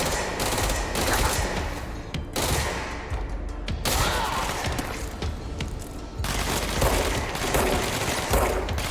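Sustained rapid gunfire from the video game Control, bursts of automatic shots with booming impacts running almost continuously for several seconds, loud and dense with brief gaps.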